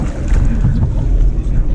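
Torqeedo 1100 watt electric motor pushing a Bonafide kayak at full speed on open water, a steady close low rumble mixed with wind buffeting and water rush, loud and continuous throughout.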